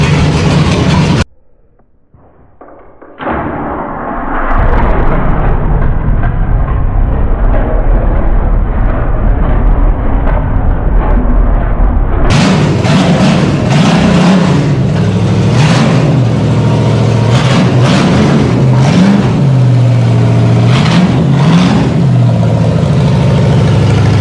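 A small engine sitting on a garage floor cranks and catches after a brief pause, then runs loud and close, idling roughly with repeated revs rising and falling throughout.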